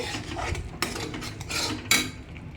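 Tamarind rice stirred slowly in a cooking pot with a spoon, giving a steady scraping and rubbing with a couple of sharper metallic clinks against the pot, close and fairly quiet, with no talking.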